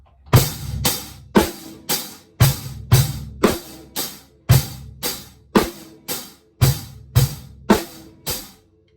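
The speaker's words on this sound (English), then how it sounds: "one of the beats that I often use is sort of like a rock beat" Rock beat on a drum kit at a slow-song tempo, kick and snare hits with cymbal wash, about sixteen steady strikes repeating evenly, loud and close with no voices.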